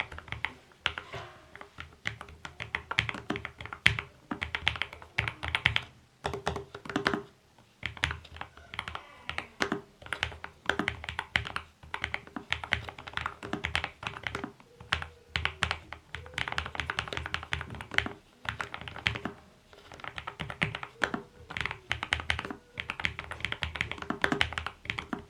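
Slow typing on a Lofree FlowLite84 low-profile gasket-mount keyboard: soft, muted key taps in an uneven unhurried rhythm, close and quiet, with brief pauses between bursts and no talk.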